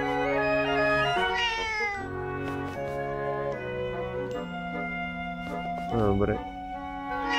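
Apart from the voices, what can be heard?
cat meowing in the video game The Legend of Zelda: Echoes of Wisdom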